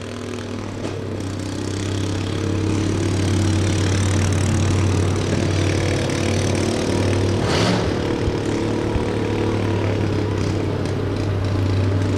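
A slightly modified John Deere engine runs at a demolition derby, a loud, steady, low idling drone with faint unevenness hinting at a misfire, heard close and continuous without speech.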